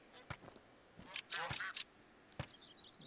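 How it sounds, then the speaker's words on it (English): Game birds in TheHunter: Call of the Wild at a salt-marsh park give quacking and honking calls in short clustered bursts, mid-distance, among sharp clicks and faint ambient noise. "got some birds"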